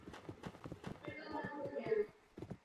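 Horses clop along in a Roblox cowboy game with rhythmic, close hoof beats, and a whinny rises in the middle as people talk over the sound.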